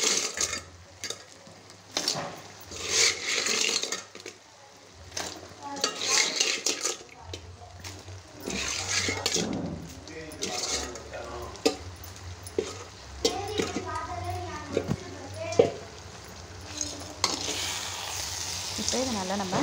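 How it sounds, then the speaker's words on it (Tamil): Field crabs sauté in hot oil with masala for a crab gravy, giving a loud, steady sizzle with repeated scraping and clinking as a utensil stirs the pan; no voices. "இது கூட இப்போ நம்ம அலசி வச்சுருந்த நண்டை சேர்த்து வதக்கி எடுத்துக்கலாம்."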